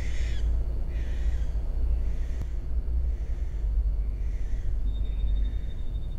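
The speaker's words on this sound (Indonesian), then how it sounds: "Tiba-tiba ada suara gagak." Crow cawing in a series of repeated harsh calls at a distance, over a loud, constant low rumble, with no speech.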